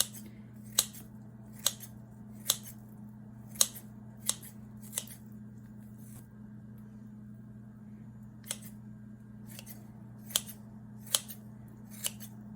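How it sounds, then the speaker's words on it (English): Vegetables being cut for dumpling filling make about a dozen crisp, sharp snips or chops at an uneven pace with short gaps between, set against a steady low hum, with no talking. "I will cut some vegetable in it to mix them up because I want some vegetable dumplings."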